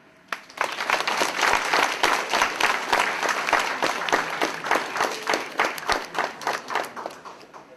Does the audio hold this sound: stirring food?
no